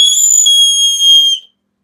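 A single sustained high whistle held steady for over a second, loud and close, then cutting off into silence.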